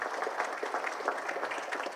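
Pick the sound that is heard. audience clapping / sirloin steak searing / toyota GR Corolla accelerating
audience clapping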